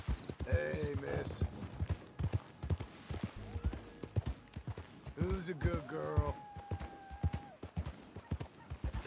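Horse hooves clip-clop in Red Dead Redemption 2, a rhythmic series of soft strikes running throughout while someone talks over them at close range.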